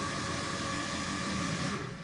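A Dragonroar creature sample slowed down in Kontakt's Time Machine, giving a long, steady, loud grinding roar with a thick low rumble and noisy upper hiss that fades a little at the close.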